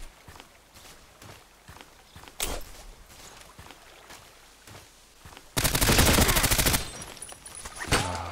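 Submachine gun fire in the shooter game Contract Wars on the Lake map: a loud, rapid burst of about a second, with softer footstep-like taps before it.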